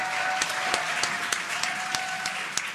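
A crowd claps and cheers as SpaceX's Crew Dragon Freedom capsule descends under its drogue parachutes, a steady dense wash of applause with scattered sharper claps throughout.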